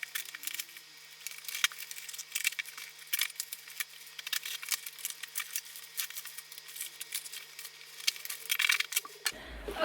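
A taped Chanel box being torn and forced open, with crackling rips of tape and cardboard and light rustling scraping throughout, close and fairly loud, ending in a sudden low thump.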